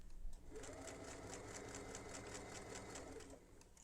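A sewing machine stitches the seam of a small fabric bag, a steady close whirring with rapid regular needle clatter running for a few seconds at low level.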